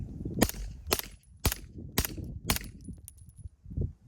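Five evenly spaced sharp gunshots from a Kuna firearm firing supersonic 124 grain Federal ammunition, each a crisp crack with short ringing decay, outdoors, followed by fainter noise.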